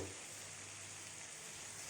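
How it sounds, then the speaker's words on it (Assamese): Tomatoes frying with turmeric in oil on a medium flame, a faint, even, continuous sizzle with no talking. "অলপ মিডিয়াম ফ্লেমত বিলাহীখিনি ভাঙি যোৱালৈকে ভাজি ল'ব"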